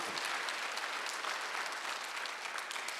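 A church congregation claps together during a Sunday worship service, a dense, steady wash of many hands that holds at even loudness for about three seconds with no talking over it.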